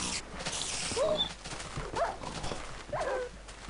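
A Minecraft pet dog fights a spider, giving three short yips and growls about a second apart over a busy game background, fairly close and moderate in level.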